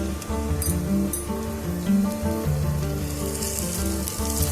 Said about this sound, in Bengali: এবার এর মধ্যে দিয়ে দিচ্ছি 1 টেবিল চামচ মতো আদা রসুনের পেস্ট।